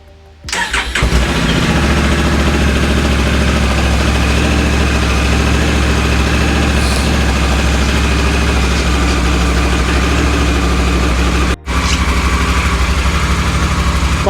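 A Honda Africa Twin 1100 DCT motorcycle engine cranks and fires after a quiet start, then settles into a steady, loud idle that briefly cuts out once before resuming.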